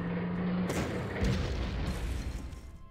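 Artillery fire in the World War II strategy game Panzer Corps lands as a deep booming blast with a rumbling low tail, preceded by a short tone and followed by fading echoes.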